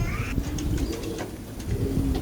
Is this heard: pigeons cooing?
yes